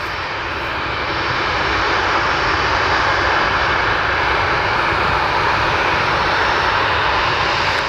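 An aircraft at Portland airport roars steadily with a loud, continuous engine drone that swells slightly and holds for several seconds in poor weather.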